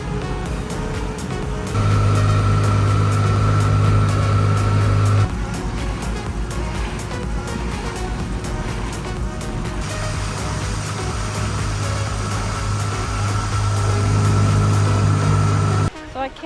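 A dinghy's outboard motor running at sea in the Bahamas, with a steady droning hum that rises and falls in pitch over time, loud and close, partly under talking.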